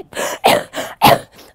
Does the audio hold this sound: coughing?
yes